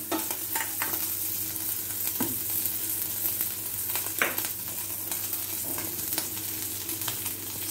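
Chopped vegetables with green chili and crushed ginger stir-fry in a pan under a constant close sizzle, broken by several scraping and stirring strokes and light knocks, no voices.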